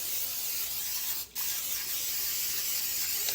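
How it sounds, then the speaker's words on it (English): A long cooking spray aerosol hisses steadily onto a griddle, pausing briefly once before continuing, close and fairly quiet. "I'm going to spray my little griddle here."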